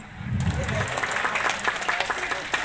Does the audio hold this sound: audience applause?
yes